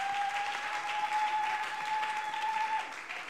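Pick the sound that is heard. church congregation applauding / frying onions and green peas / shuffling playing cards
church congregation applauding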